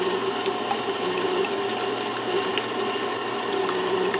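A KitchenAid stand mixer beats eggs for a walnut pie, producing a steady, close motor whir with a faint mechanical rattle running unbroken throughout.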